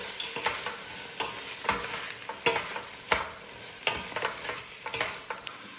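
Garbanzos stirred in a frying pan, with repeated scraping stir strokes over a steady oil sizzle, close and fairly loud, with no voices.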